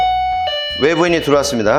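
A doorbell chime rings, followed by an automated voice announcement over the intercom speaker.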